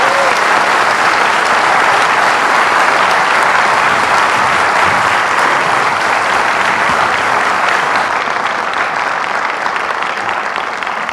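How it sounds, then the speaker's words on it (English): Sustained, loud audience applause for candidates at a university candidate forum, a dense wash of clapping from a full room that holds steady for over ten seconds. "let's give all of our candidates a round of applause."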